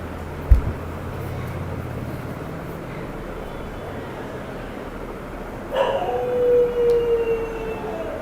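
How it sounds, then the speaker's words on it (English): Dogs outdoors howl and bark in the distance at night, a faint sustained howl rising over steady background hiss after an early short bark. "The dogs are at it again."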